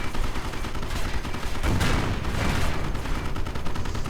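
A Staghound's 37mm gun firing at a Panzer 4 in Company of Heroes 2 sounds as a dense wash of battle gunfire, loud and close, with a heavier burst of blasts midway through.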